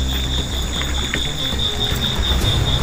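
A loud river with waves rushes in a steady, dense roar, close by and unbroken throughout.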